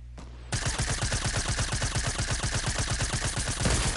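Rapid automatic gunfire in the Fortnite video game, a loud, steady rattle of evenly spaced shots that starts after a brief quiet moment and keeps up for several seconds.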